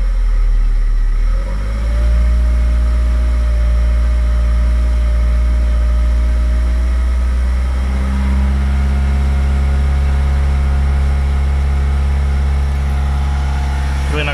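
A Dodge Stratus 2.4 engine with urethane-filled motor mounts running steadily at a constant low droning hum, loud and close, with a slight change in tone partway through.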